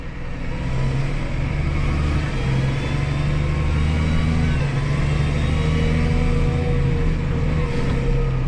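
A six-cylinder New Holland TR6.150 tractor shifts gears automatically and accelerates, its engine a loud, steady close-up rumble with a rising drone and no talk over it.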